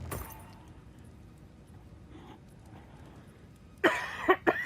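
A sharp close cough bursts out near the end after mostly quiet background hum, followed by two smaller coughs or throat clears, during a live game session.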